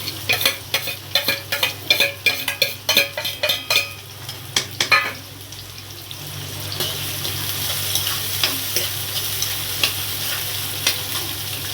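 Whole red chillies, black peppercorns and a bay leaf go into hot oil for a mushroom masala: quick spoon clinks and stirring come first, then a steady sizzle rises and holds.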